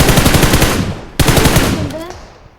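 Automatic gunfire in the PUBG Mobile game, a rapid burst of close, loud shots that cuts off, then one more sharp report and a fading ringing tail.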